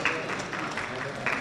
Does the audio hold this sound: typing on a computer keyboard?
no